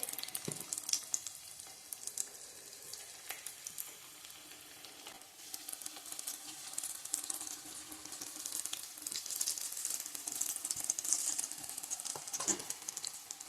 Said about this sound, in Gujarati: હવે ફરીવાર આપણે તેને તેલમાં ફ્રાય કરી લેવાની છે.